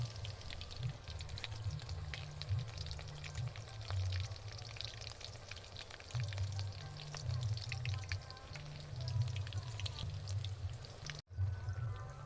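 Vegetable chops made with kulpo greens frying in hot oil, a steady, dense crackle and bubbling sizzle running throughout, close and fairly even, with a brief dropout near the end.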